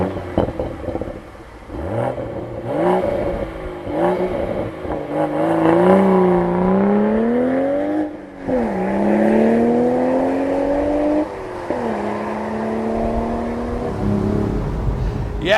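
A 2025 BMW Z4 with a manual gearbox and turbocharged six-cylinder engine accelerates hard through several gears, its rising engine note climbing and dropping with each shift, heard from inside the cabin.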